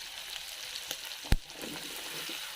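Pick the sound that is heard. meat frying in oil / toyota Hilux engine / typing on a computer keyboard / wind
meat frying in oil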